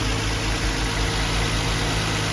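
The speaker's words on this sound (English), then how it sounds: "It's actually idling alright." A Nissan G35 / 350Z engine with a new 75mm throttle body idles steadily with a low, constant rumble and slight vibration, close by, with no one speaking.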